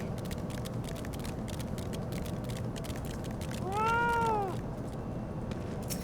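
A fat cat mount in Final Fantasy XIV lets out a single clear meow partway through, rising above a steady bed of game ambience.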